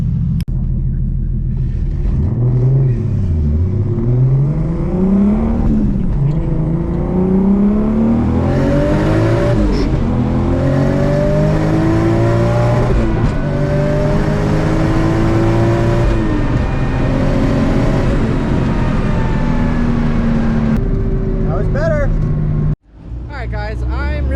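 A Lexus IS300 with a 1.5JZ engine on a drag strip run, accelerating hard through rising and dropping gear pulls, loud and continuous, then cutting off abruptly near the end.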